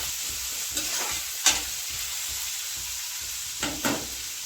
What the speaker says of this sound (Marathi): ही हिरवी मिरची आहे ती पण टाकते आता